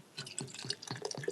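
Beer gurgles from a bottle into a glass in quick, rhythmic glugs, close and clear, a rapid series of hollow liquid pulses lasting about a second.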